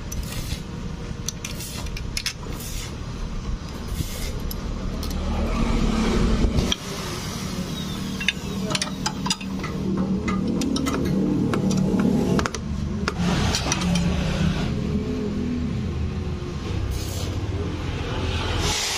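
A Honda Beat scooter woken after four months unused starts on the electric starter and keeps running with a steady, close, continuous engine drone and some mechanical clatter, with no voices over it.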